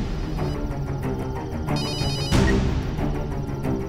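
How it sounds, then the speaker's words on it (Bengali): A telephone rings indoors in a domestic drama scene, repeated ringtone bursts sounding over a background music bed, with a brighter electronic ring pattern near the middle. "ম্যাডাম ফোন করছেন"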